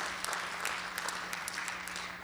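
A church congregation applauds during a sermon, with steady, moderately distant clapping and a low hum underneath for the whole short stretch.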